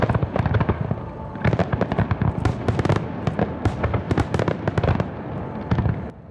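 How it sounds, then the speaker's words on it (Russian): Rapid bursts of a festival fireworks display crackle and pop in dense clusters, loud and continuous, with booms scattered through the volley. "Завершился праздничный марафон красочным салютом."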